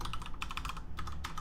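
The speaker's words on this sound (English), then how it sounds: "just type your password" Rapid keystrokes on a computer keyboard while a password is entered, with quick irregular clicks arriving in short bursts and brief pauses, close and fairly quiet, with no voices.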